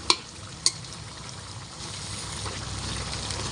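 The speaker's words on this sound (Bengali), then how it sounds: "মাংসটা খুব সুন্দর কষানো হচ্ছে" Chicken pieces sautéing for kosha, with a steady quiet sizzle and bubbling, two sharp utensil clinks near the start, then continuous frying noise as the meat is stirred.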